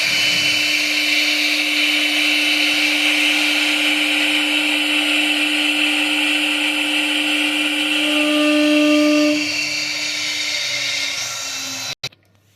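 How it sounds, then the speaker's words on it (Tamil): A CNC wood carving machine's spindle runs at full speed as a steady, loud, constant whine with no talk, then winds down and cuts off near the end. "இப்போ ஸ்பிண்டில் ஃபுல்லாக சுற்றினதுக்கப்புறம் ஒரு சவுண்டு ஒரே சவுண்டாக இருக்கா"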